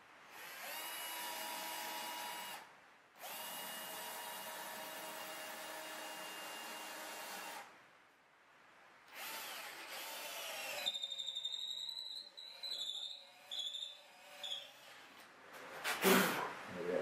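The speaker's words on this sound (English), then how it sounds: "drill a hole" A power drill whirs in long steady bursts with brief pauses while drilling a hole in a sailboat mast, followed by lighter scraping and clattering, fairly close and with no talking.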